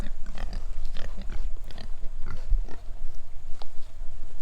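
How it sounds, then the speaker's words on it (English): Pigs on a farm grunt and snuffle close by in short, irregular bursts of low oinks that overlap one another throughout, with no talking. "What's up, pigs?"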